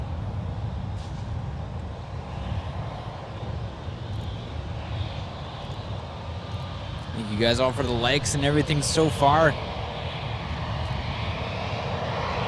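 An Embraer E190AR airliner's jet engines rumble steadily at San Francisco International Airport, a broad low roar with a rising whine in the middle, heard under someone talking nearby.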